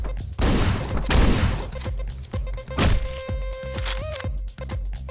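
Rapid gunfire from the Hotline Miami video game, loud repeated shots and thuds in quick bursts, with a sustained tone rising near the end and busy game sound throughout.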